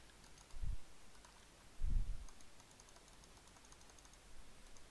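Computer mouse clicked repeatedly while coloring in a Scratch project, two short close bursts of clicks heard alone in a quiet room.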